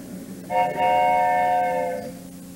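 A train whistle sound effect in a high school stage production of The Music Man: a steady, chord-like horn tone holds for about a second and a half, then fades into the hall's ambient noise.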